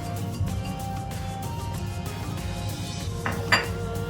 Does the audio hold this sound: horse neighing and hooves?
no